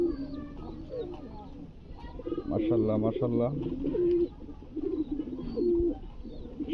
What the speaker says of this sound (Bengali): আমার লক্ষা কবুতর ডিম থেকে বাচ্চা বের করছে